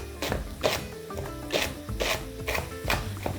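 A knife slicing the green top of a spring onion into half rings on a board, a steady series of crisp, close chopping strokes at a brisk rhythm, with no talk.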